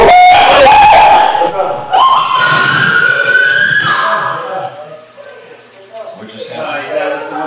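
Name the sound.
woman screaming in a played paranormal investigation video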